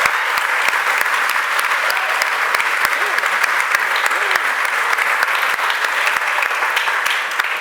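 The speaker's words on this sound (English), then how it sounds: "So please give a warm round of applause for Chris Deminick." An audience at a conference keynote claps steadily and warmly, dense sustained applause filling the room for several seconds.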